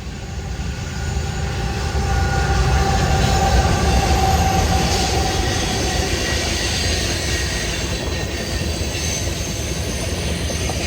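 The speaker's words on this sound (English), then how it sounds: "It's a Conrail train." Conrail freight train passing Valley Forge station at close range, a loud, steady rumble of wheels and cars with a faint high squeal, continuous throughout.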